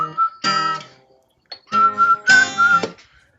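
Someone whistles a melody up close, a clear pure tone that moves between notes in short phrases, with a pause in the middle and some breathy air noise around the louder passages.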